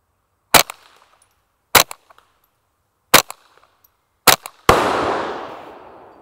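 A 10/22 bullpup rifle fires four spaced shots at a 4-inch steel plate 100 yards away, each a sharp loud crack with a faint distant ring, followed by a sustained rushing noise.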